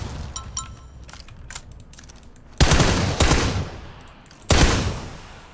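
A 12-gauge shotgun firing in Battlegrounds, three loud, sharp blasts spaced a second or two apart after a stretch of light clicking and clatter.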